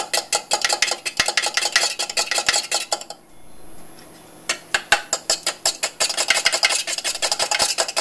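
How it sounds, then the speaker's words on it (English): Ingredients scrambled in a metal muffin tin, with rapid, rhythmic scraping and clinking of a utensil against the tin, loud and close, broken by a brief lull before the brisk stirring resumes. "Kind of like you're scrambling them in the muffin tin."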